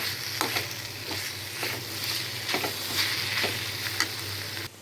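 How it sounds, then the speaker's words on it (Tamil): Dried fish and chopped tomatoes sauté in a pan with a dense, close sizzle, while a utensil scrapes through them in several soft, spaced strokes. "அதையும் சேர்த்து நல்லா வதக்கி விடுங்க"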